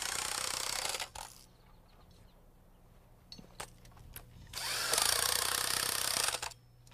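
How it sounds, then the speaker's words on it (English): Impact wrench tightening nuts onto bolts on floor-framing mud sills, two loud sustained buzzing bursts with a quiet stretch between holding a few short clicks and taps. "I like to tighten them down with an impact wrench"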